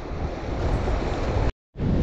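The Kali Gandaki river in Nepal rushing past, a loud broad continuous roar heard close up, broken by a brief dropout near the end, with no talk.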